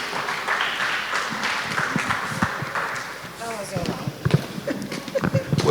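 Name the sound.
applause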